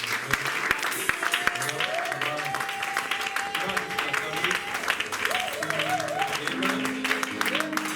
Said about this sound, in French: Tu vas simplement acclamer Jésus